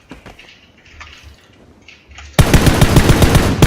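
Rapid automatic gunfire in the battle royale game PUBG erupts after a quieter stretch, a loud, dense burst of repeated shots continuing to the end.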